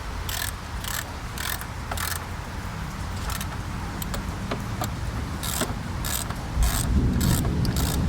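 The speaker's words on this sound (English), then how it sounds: "Now let's go ahead and tighten them down." Ratchet tightening the radiator mounting bolts on a Honda Accord, a steady run of close mechanical clicking bursts in short repeated strokes, with no talking.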